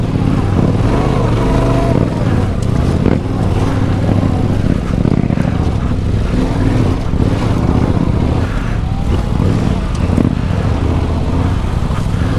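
A Yamaha Tenere 700 motorcycle rides over loose terrain, its engine droning steadily and loudly close by, with rumbling wind and tire noise running through the whole stretch.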